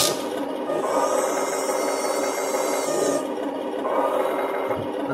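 Small motor of a Henglong 1/16 RC German Panzer III tank moving the gun barrel, a steady close whirring buzz that runs continuously and shifts pitch slightly partway through.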